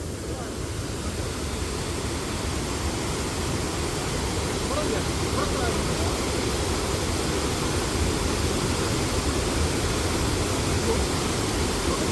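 Vazhvanthol waterfall in Trivandrum rushing steadily, a dense, even roar of falling water heard close and loud for the whole stretch with no breaks.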